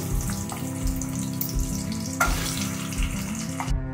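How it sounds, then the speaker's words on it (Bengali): Eggs sizzling and frying steadily in a kadai, a continuous close crackle with small pops throughout, and no voices. "এবার ছেড়ে দেবো কড়ার মধ্যে। ডিমগুলো ভেজে নেব।"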